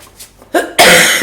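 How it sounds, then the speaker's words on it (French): A single loud, harsh cough bursts out close to the microphone after a brief quiet breath, abrupt and raspy. "J'arrêterai jamais de tousser."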